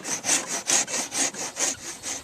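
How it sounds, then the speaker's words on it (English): A rasp shapes the end of a wooden dowel for a clothes hanging rack in steady, regular strokes, about eight close, crisp scraping passes in just over two seconds, with no talking. "Rasp use a rasp. It can take off a lot more wood quicker."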